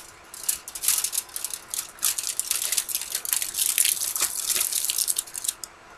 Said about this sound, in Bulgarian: Виждате водата, която скоро ще се разлее.